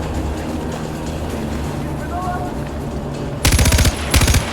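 Heavy automatic gunfire in Far Cry 4's Valley of the Yetis DLC: two loud, rapid bursts rip out near the end over a rumbling engine-like background.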